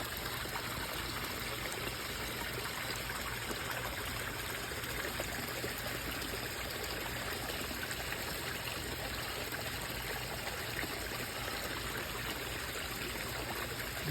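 Water runs steadily into a koi pond, a constant gushing trickle at moderate distance, even and unbroken with no voices.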